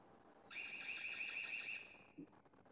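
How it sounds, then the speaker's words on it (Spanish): A security camera's built-in alarm siren sounds one loud, steady electronic tone for about a second and a half, with harmonic layers, then stops abruptly against quiet room noise. "Vemos un poco una especie de alarma que tiene la cámara"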